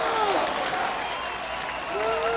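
Jubilant crowd at a 1998 German federal election party, cheering and applauding loudly and steadily throughout, with shouting voices mixed into the dense roar.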